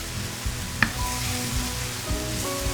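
Spicy Korean stir-fried long-legged octopus cooks in a pan with scallion and garlic seasoning, giving a steady low sizzle with a few faint stirring scrapes and a brief clink, close, no talk.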